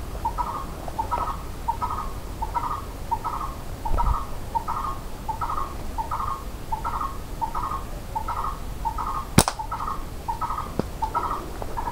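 A small mini parrot calls in a forest, giving short, evenly spaced chirps in a steady run of about twenty notes over a soft outdoor background, with one sharp click near the end.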